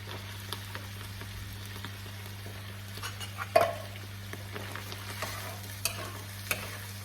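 Tomatoes fry in a pan with a soft, steady sizzle while a spoon stirs and scrapes now and then, including one sharper clink, quiet and close with no talking.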